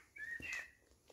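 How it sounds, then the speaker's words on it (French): A blackbird sings in the countryside during an evening walk, giving a short, clear whistled phrase that rises and falls. It is faint and distant over quiet outdoor background. "Bon, accompagné par le merle."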